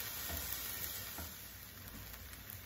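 Onions, tomatoes and spices cooking down in a pan for Malabar chicken curry, a soft, quiet continuous sizzle heard up close with no voices.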